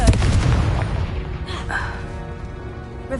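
Confringo blasting spell in Hogwarts Legacy going off as a loud booming burst at the start, then a rumbling tail with further softer blasts and magical effects, with a voice briefly present.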